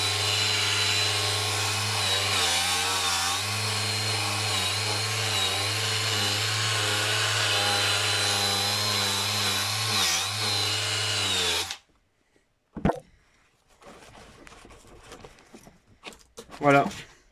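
Power polishing a scratched plastic motorcycle headlight lens: a loud, steady high-pitched whine from the polishing tool runs for about twelve seconds, dips in pitch now and then under load, then stops, followed by a few quiet handling noises.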